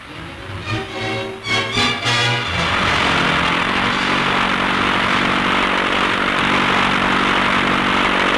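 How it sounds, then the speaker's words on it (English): A heavy propeller aircraft engine roars steadily and loudly during the 1942 Dieppe Raid air battle, with a brief rising drone at the start before settling into a constant broadband roar. "Planes going out, planes coming back to refuel."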